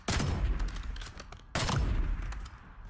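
Sniper rifle fire in a Call of Duty match, two sharp loud shots about a second and a half apart, each followed by a rattling tail of echo and clatter, with no talk.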